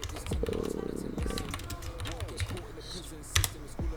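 Computer keyboard typing while a folder is made for custom FiveM clothing, scattered key clicks under ongoing speech in a room.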